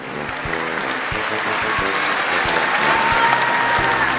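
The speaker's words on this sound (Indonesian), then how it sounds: "kita berikan sekali lagi tepuk tangan yang paling meriah sambutan dari Menteri Agama Republik Indonesia Bapak Kiai Haji Nasaruddin Umar" Audience applause for Indonesia's Minister of Religion at a Christmas celebration: loud, sustained clapping from a large crowd, steady throughout with sharp individual claps standing out.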